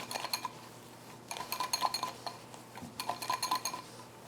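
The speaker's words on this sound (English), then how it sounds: "So you mix everything together very well." A utensil whisks cannelé batter of egg and yolk in a bowl, making bursts of rapid, rhythmic clinking and scraping close up, separated by brief pauses.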